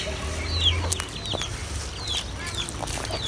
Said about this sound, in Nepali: ऊ बेबी चल्ला हेर त ल